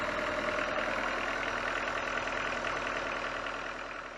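A Nanni 60 hp diesel engine runs aboard a sailboat, a steady low idling rumble with an even mechanical chug, close and continuous, easing slightly toward the end with no talk.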